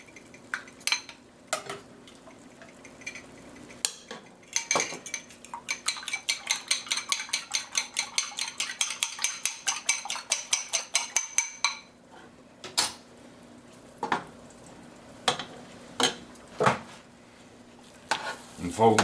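A spoon clacks against a pot as stock is stirred into chicken and cornbread dressing, first in scattered knocks, then in a fast steady run of taps, then sparse clinks again, close and without talk.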